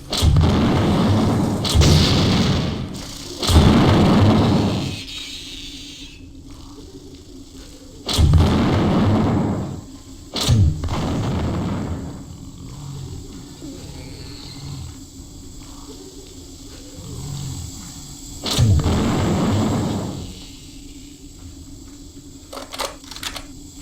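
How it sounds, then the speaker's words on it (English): Grenade blasts from the game System Shock, several loud booming bursts spaced a few seconds apart over a low game hum, each with a sharp onset and a short roar that fades out. "Perhaps this is a job for grenades."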